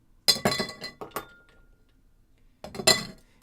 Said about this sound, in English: And we will get our ice.